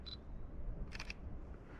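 A camera beeps briefly as it focuses, then the shutter fires once with a soft, quick mechanical click, quiet against outdoor background hiss at sunrise on a road.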